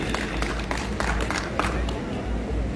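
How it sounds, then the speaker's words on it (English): Audience applause at a formal gathering, a steady wash of many hands clapping at moderate loudness for a few seconds, with a few sharper claps standing out. "Round of applause for all of them"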